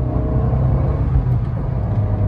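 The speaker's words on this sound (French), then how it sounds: "Ici avec le mode sport, on sent une bonne accélération." An Abarth 595 in sport mode accelerates with a loud, steady engine rumble and whir that holds close and even throughout.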